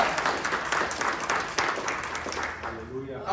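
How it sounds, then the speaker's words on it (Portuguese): A church congregation applauds during a sermon, a steady wash of clapping that sits under and around the preacher's ongoing speech before it fades. "vamos aplaudir ao Senhor, porque é vitória."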